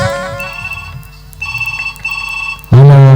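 A telephone rings in a repeating electronic warble during a Chhattisgarhi nacha folk stage drama, with steady pulses over music before a loud, close burst of tone at the end; no one speaks.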